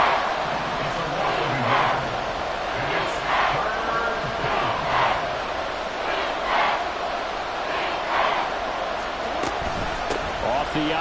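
A large stadium crowd roars and chants in a Madden football video game, a broad sustained swell of cheering with an announcer talking over it.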